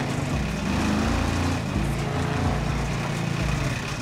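In GTA 5, a damaged car's engine buzzes in a raspy, mower-like tone, shifting pitch briefly midway before settling back into a steady, close running drone.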